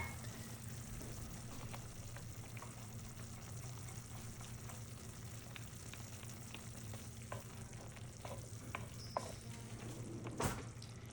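Thickener is stirred into a shepherd's pot pie filling simmering in a pot, giving a steady low sizzle and bubbling with occasional soft spoon scrapes and clinks, close but fairly quiet.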